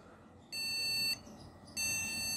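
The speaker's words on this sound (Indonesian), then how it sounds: "maka motherboard dengan speaker buzzer dia akan ngasih tahu ke kita" Two steady high-pitched electronic beeps from a desktop computer's motherboard speaker buzzer, each lasting about half a second with a short gap between, over faint background hiss.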